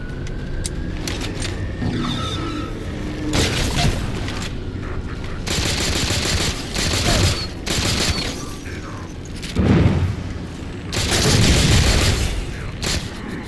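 Pistol gunfire in Halo 4 during a Legendary run on Requiem: loud repeated shots and booming impacts packed together, with dense game action throughout.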